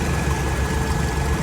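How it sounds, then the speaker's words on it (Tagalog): The air conditioning compressor of a Toyota Corolla being converted to a new evaporator runs with a steady, loud, low mechanical drone and engine hum, close by with no talk. "Ang bomba ng compressor, yan."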